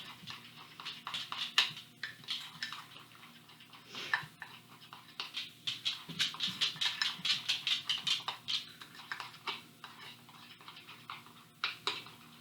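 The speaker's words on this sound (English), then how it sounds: "And then just stir it up" Icing being stirred in a bowl for cake decorating, a close run of quick clicking scrapes that speeds into a steady rhythm in the middle, then thins out to scattered taps.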